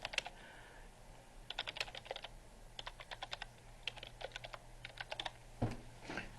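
Fingers tap out an irregular run of quick clicks on a computer keyboard while a name, email address and comments go into a web form, faint and close with short pauses between bursts.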